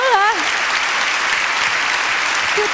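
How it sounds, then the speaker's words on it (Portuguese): Loud, steady applause from a women's congress audience honoring pastors, filling the whole moment, with a voice speaking over the clapping. "vamos aplaudi-los"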